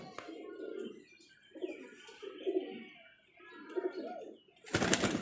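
Pigeons coo in a series of soft, throaty, rolling calls close by, ending with a sudden burst of rustling noise.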